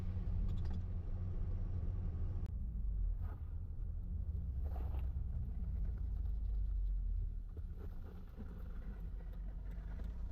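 A 2004 Toyota car with a turbocharged 3RZ engine cruises steadily in third gear at about 60 km/h, its low engine rumble and road noise droning continuously with small bumps and shifts in tone.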